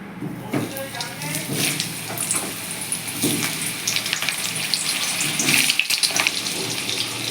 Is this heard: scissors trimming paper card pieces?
no